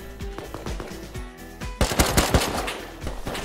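Gunfire in the survival game Rust: sharp automatic bursts and single shots at close range, growing denser and louder halfway through, with no talking.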